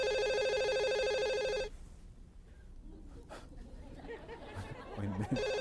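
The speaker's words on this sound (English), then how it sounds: "Who's got the phone going?" A telephone rings with a bright electronic trill during a sermon on marriage and in-laws, then cuts off as a crowd murmurs and chuckles, with a brief second burst of ringing at the end.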